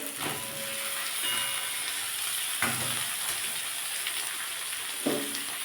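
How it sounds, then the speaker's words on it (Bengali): Onion and garlic fried red in a pan, now with cucumber and tomato added, sizzle in a steady, close crackle with a few stirring clatters and no talk. "এটা একটু অনেকক্ষণ ধরেই ভাজতে হবে কারণ শসার মধ্যে একটা জল থাকে"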